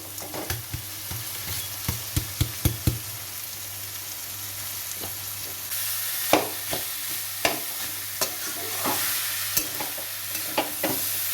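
Chicken mince is stirred into frying spice masala, with a steady, up-close sizzle broken by regular sharp spatula scrapes and knocks against the pan. The sizzle swells partway through, and nobody speaks.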